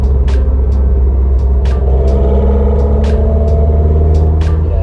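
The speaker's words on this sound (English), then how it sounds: "It's a great engine noise." Loud, steady low engine rumble from a Lotus Esprit running throughout, heard from inside the car with soundproofing, with a few short sharp transient clicks over the continuous drone.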